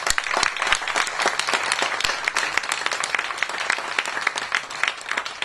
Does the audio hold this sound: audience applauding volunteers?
yes